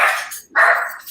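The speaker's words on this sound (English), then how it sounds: "Sorry about the dogs." Dogs bark loudly and close by in a home kitchen, two sharp barks with a brief gap between them.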